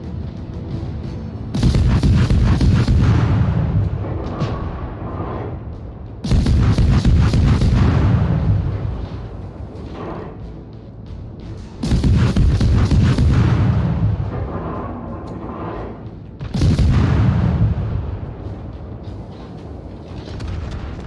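Four deep booming salvos from a German Tier III cruiser, the Kolberg, in World of Warships, each a heavy blast followed by a rumbling decay, spaced several seconds apart, loud and without talk.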